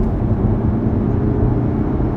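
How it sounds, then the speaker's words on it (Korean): A BMW 523d with a four-cylinder diesel engine accelerates hard, heard as a steady, dense low rumble with a broad roar, continuous and without clear rev changes. "여기서 잠깐 스포츠를 놓고 급가속을 한번 해볼게요."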